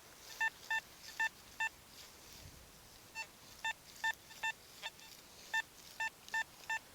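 An XP Deus II metal detector sounds repeated paired electronic beeps over a buried target in a Derbyshire field, short evenly spaced tones in quick bursts with brief pauses between groups, clear above faint outdoor background.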